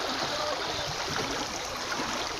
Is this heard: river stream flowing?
yes